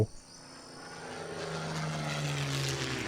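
In Shadow of the Tomb Raider, a propeller airplane engine drones steadily and rises slowly in volume, a fairly quiet continuous hum with no talk.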